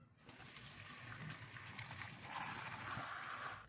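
Water runs and splashes as basil leaves are soaked before cooking, a steady gushing flow with small sloshes, fairly quiet and close.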